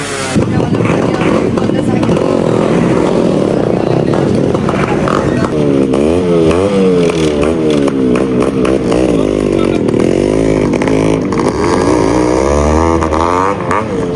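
Several Yamaha RX motorcycles rev and idle loudly together at close range, their engines droning continuously with a rising and falling pitch while people talk over them.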